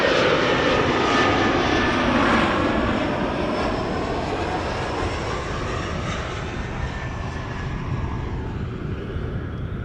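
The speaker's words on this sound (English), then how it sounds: "Emirates flight 147 arriving from Dubai" Emirates jet airliner, flight 147 from Dubai, arriving at Amsterdam Schiphol, its broad engine roar loud and steady throughout, easing slightly toward the end with no voices.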